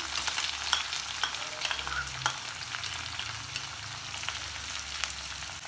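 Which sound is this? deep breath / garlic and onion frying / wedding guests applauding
garlic and onion frying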